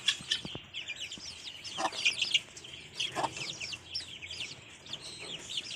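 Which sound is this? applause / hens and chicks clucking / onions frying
hens and chicks clucking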